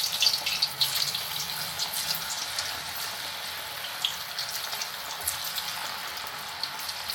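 Manchurian pieces frying in hot oil in a home kitchen, a steady close crackling sizzle with scattered pops throughout, no talking.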